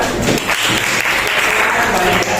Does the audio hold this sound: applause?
yes